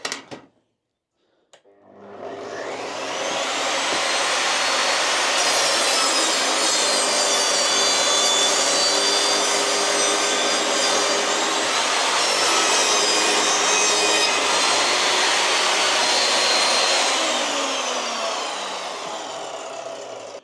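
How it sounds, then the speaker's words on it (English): An Evolution R255 jobsite table saw cuts a small wood fillet: a brief click, then the blade spins up and slices through the wood with a loud, steady close whine that winds down over the final seconds. "Let's have a look at cutting a little fillet like this."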